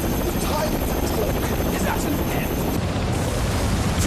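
Helicopter rotors roar loudly and continuously in the Ninja Gaiden video game, a dense, steady whirring wash, with a brief voice speaking over it.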